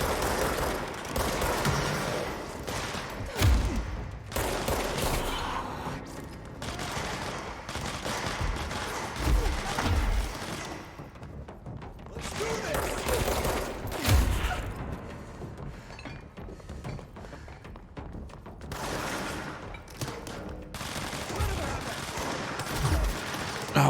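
Gunshots in the video game Control ring out in repeated irregular volleys, sharp cracks with occasional heavier thuds and shattering, loud and close across the whole stretch, with a voice speaking at times.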